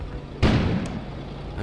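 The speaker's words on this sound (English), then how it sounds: "An explosion suddenly occurred outside." A single muffled explosion outside in the game Kona, a sudden low boom with a brief rumbling decay, heard indoors over a quiet ambient hum.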